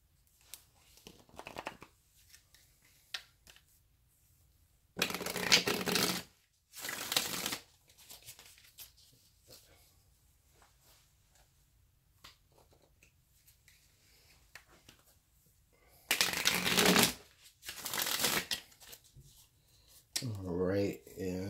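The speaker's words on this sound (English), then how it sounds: "I will shuffle this really, really good, and I will draw 3 cards from the deck" A deck of tarot cards being shuffled, with several loud bursts of riffling and flicking separated by quiet stretches, close by, and a person speaking briefly near the end.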